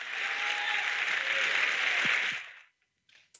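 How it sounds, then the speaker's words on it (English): A short burst of audience applause from a small group rises steadily, holds for about two seconds, then stops abruptly, followed by brief faint noises. "Round of applause."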